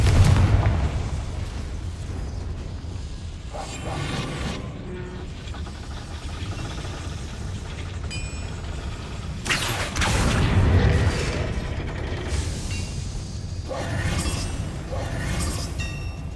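A Confringo fire spell blast in Hogwarts Legacy, a loud booming explosion followed by rumbling game effects and mechanical clatter, with several bursts across the scene and no talk over it.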